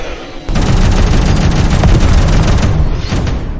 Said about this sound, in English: As the needle ship roared after him, firing and booming,